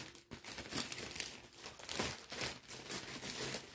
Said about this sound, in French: J'ai enlevé le sac plastique.